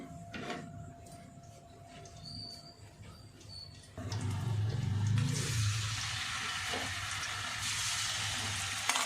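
Fish frying in hot oil on a home stove: soft clinks and light kitchen handling at first, then a loud, steady sizzle sets in and holds to the end.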